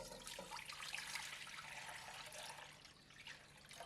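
Water runs steadily into a steamer pot on the stove, a close, continuous splashing gush with no voices.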